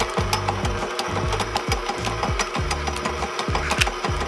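Electric stand mixer running on a low speed, churning chocolate chip cookie dough as dry mix is added; a steady motor whir with a repeating rhythmic thump from the beater, close and continuous.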